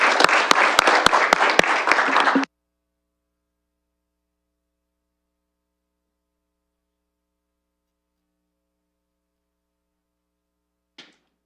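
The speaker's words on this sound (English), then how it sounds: "we always give our guests applause after singing the National Anthem" Council members and guests at a London City Council meeting give a short burst of applause after the National Anthem, brisk clapping with sharp regular beats that stops abruptly after about two seconds, then near silence with one faint click.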